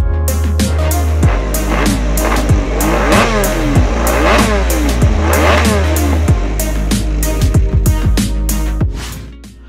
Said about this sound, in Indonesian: Honda RC211V, sebuah sepeda motor balap MotoGP juga memakai mesin V5.